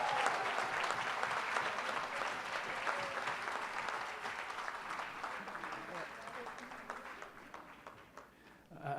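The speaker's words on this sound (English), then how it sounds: "A big round of applause for her." An awards-ceremony audience claps in a long, dense wave of applause that tapers slightly toward the end, with a voice faintly over it.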